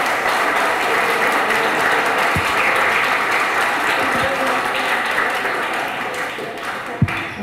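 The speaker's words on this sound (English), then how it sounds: "I want to applaud these students for," Audience at a community meeting on Lanai applauding students, steady many-handed clapping throughout with a few sharper individual claps and little talk.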